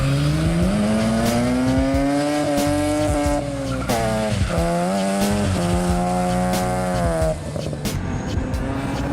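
A Mazda RX-8 with a welded diff drifts around the oval at Evergreen Speedway, its engine howling loud and continuous while tire squeal rises and falls, with brief dips as the car transitions.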